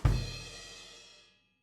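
A short drum fill played as a two-stroke with an accented left-hand note, landing on a crash cymbal that rings out and decays over about a second, loud and close with no talking.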